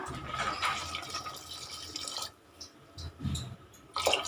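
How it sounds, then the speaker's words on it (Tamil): Water is poured into a pot of Tamil chickpea kuzhambu (sundal curry) as it cooks, giving a soft, fairly faint splash and trickle that stops briefly midway before more liquid sloshes in. "இப்போ தண்ணி சேர்த்து விட்டுறலாம்."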